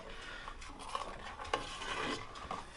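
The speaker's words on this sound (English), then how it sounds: "Now with the heat on low, we're going to stir this for just a couple minutes." A utensil stirs milk curds in a pot on low heat for homemade ricotta, making soft scraping and rubbing strokes with a few light clinks against the pot, close and without talk.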